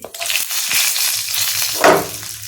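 Half a spoon of cumin seeds and dried red chillies crackle in hot oil for an onion chutney, a brief close burst of frying with a louder hiss flaring near the end.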